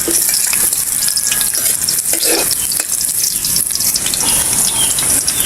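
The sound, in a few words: sautéing garlic and onion in hot oil in a pan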